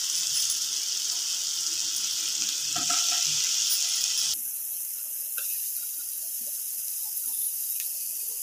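Tomatoes hitting a hot frying pan give a steady, bright sizzle that runs throughout, with a few small clinks and a sudden drop in intensity partway through as the pieces settle.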